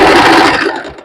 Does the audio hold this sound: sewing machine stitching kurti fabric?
yes